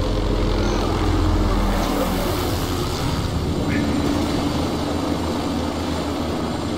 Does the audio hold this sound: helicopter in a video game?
yes